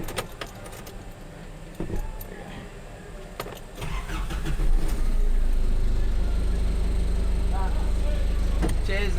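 An FJ49 with a fuel supply fault, keys jangling, then the engine cranking and catching into a loud, steady, close-up running rumble, with people talking faintly in the background.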